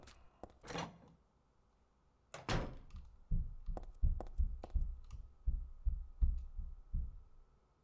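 Locked door in Silent Hill 3 rattling and thunking repeatedly, a series of short knocking jolts in an uneven rhythm after a couple of earlier bumps, fairly close and alone without talk.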